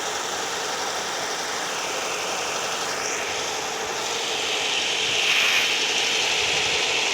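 An old Toyota engine without power steering runs steadily, a close, continuous rumble with a broad hiss on top that swells slightly near the end. No voices are heard.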